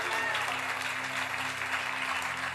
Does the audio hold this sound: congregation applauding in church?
yes